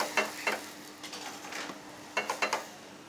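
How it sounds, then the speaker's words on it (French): Beef jus poured into a hot pan in a professional kitchen, giving soft bursts of sizzling and clinking utensil contact at an irregular pace, close and moderately quiet, with no talking. "Donc maintenant, le jus de bœuf, hein, qu'on ajoute."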